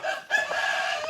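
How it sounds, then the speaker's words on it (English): Backyard rooster crowing loud and close, a drawn-out harmonic call broken by a brief pause, with clucking from other chickens nearby and no talking. "Let's go take a look at what the other chickens are doing."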